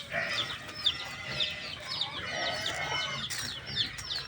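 Chickens clucking outdoors on a farm, several birds giving repeated short clucks at an irregular rhythm, fairly faint and moderately close, without speech.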